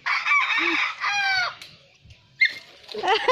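A loud, close rooster crows in long harmonic calls, with clucking and another crow starting toward the end.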